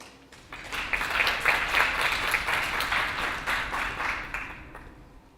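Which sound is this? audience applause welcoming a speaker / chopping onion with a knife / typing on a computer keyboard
audience applause welcoming a speaker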